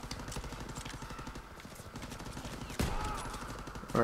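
Rapid automatic gunfire from a Call of Duty: World War 2 firefight rattles on steadily, dense and continuous, with a louder burst of shots near the end.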